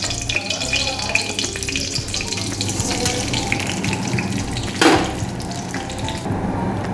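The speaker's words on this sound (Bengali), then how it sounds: "এই যে সিমাইটা ভাজা হচ্ছে" Vermicelli frying in hot ghee in a wok, a steady close sizzle with soft stirring clatter running throughout and a brief louder scrape near the end.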